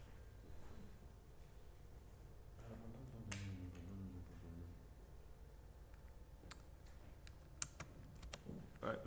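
Typing on a computer keyboard, faint, scattered keystroke clicks in a quiet room, with a few sharper taps standing out near the end.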